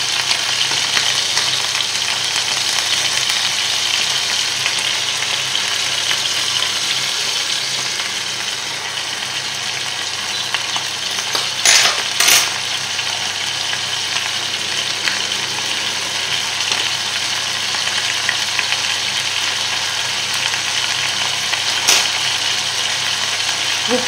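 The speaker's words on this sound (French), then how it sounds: "Alors de temps en temps, vous les bougez pour pas qu'ils collent à la poêle." Veal paupiettes fry in a pan, giving a continuous, even sizzle across the whole stretch, with a couple of brief louder crackles and no talk.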